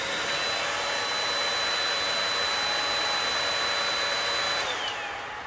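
Loud, steady airflow roar from a Milwaukee M12 cordless spot blower or a Metro DataVac electric blower running continuously at full power, close by and alone, with a faint high whine throughout before tapering slightly at the end.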